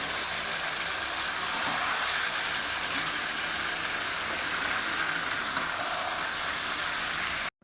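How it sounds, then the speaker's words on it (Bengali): A steady, dense hiss of tea and meat curry bubbling and simmering side by side on a stove, continuous and fairly loud, cutting off abruptly at the end. "একদিকে ফুটছে চা আর একদিকে ফুটছে মাংসের তরকারি"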